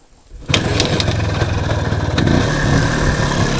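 An Izh Planeta 5 motorcycle engine kicks in abruptly after a brief quiet moment and runs loud and close with a rough, throbbing idle that holds steady to the end.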